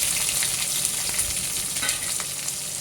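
Chopped big onions fry in oil in a pan for meen kulambu, giving a dense, close, fairly loud sizzle with faint stirring scrapes throughout a short stretch.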